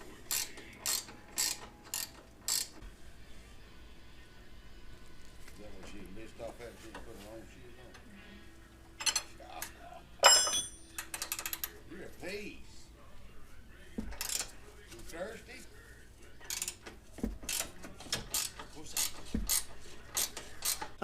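A box wrench works loose and removes an upper control arm bolt on a GMC Envoy, with a series of sharp ratcheting clicks and metallic clinks in irregular bursts, close up, with someone talking at times.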